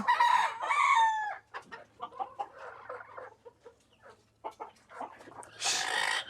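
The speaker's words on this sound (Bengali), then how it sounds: "আমার এখানে এই কয়েকটা কিন্তু দেশি মুরগি রয়েছে" Desi chickens clucking close by in a backyard poultry setup, with a rooster crowing at the start and an uneven run of short clucks and squawks, ending in a louder burst.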